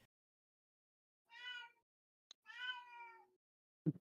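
A house cat meows twice, loud and close, in a quiet room, with the second meow longer and drawn out, followed by a brief knock.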